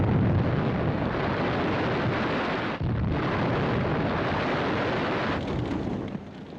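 Commandos demolish fish-oil tanks and factories at a harbour, producing a dense, continuous roar of explosions and rumbling blasts that barely lets up, with one short dip in the middle.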